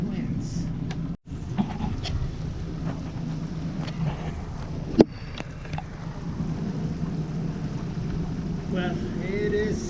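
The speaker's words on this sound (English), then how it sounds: "it is starting to blow a little harder again" Strong wind blows around a sailboat riding at anchor as a hurricane approaches, a steady low rumbling buffet of gusts against the microphone with a few thumps and creaks, and a voice speaking under it.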